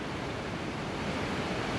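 Rough ocean surf crashing against rocks on the coast of El Salvador, a steady, dense roar of breaking water and spray with wind, continuous and loud throughout with no voices.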